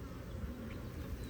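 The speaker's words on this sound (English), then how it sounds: "So definitely a lot of bees on this one." Honeybees buzz in a low, steady drone during an inspection of a busy hive, faint but continuous with no talking.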